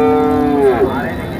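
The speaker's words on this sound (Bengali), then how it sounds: "এখানে অনেক বকনা বাছুর আছে।" A heifer calf at a cattle market gives a single loud, close moo lasting just over a second, rising and bending in pitch as it fades.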